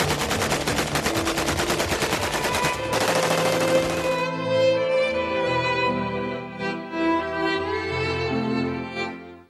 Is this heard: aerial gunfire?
yes